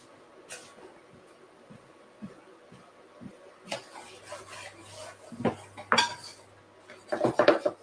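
A spatula scrapes and clatters against a pan of lamb karahi, with a few scattered metallic scrapes early, then a denser cluster of louder scraping and knocking toward the end, close by.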